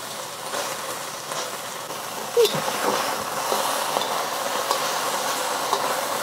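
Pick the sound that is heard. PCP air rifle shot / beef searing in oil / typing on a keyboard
beef searing in oil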